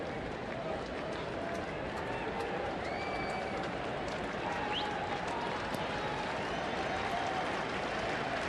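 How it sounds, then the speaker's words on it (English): Overflow crowd at Great American Ballpark during a Marlins at Reds baseball game, a broad, steady roar of cheering and clapping sustained throughout, with faint whistles rising above the wash of noise. "Overflow crowd here at Great American Ballpark trying to help Latos get the final out"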